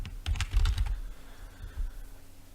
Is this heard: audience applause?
no